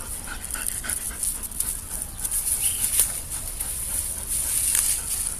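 Military police drug-sniffing dog searching a park, panting rapidly and continuously at close range with scattered faint rustles and small movement noises.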